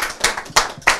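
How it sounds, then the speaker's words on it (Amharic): Applause for a sponsor at an Ethiopian community event in Toronto comes through as a few sharp, close hand claps in quick succession. "ስለዚህ ሞቅ አድርጋችሁ አጨብጭቡለት።"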